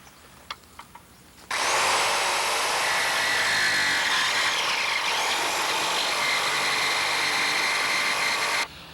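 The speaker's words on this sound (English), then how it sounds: "We're using a saber saw to go ahead and notch out our bow pulpit." A saber saw cuts a notch into a fiberglass boat bow pulpit, a loud steady buzzing rasp that runs for about seven seconds after a few light clicks, with no one talking.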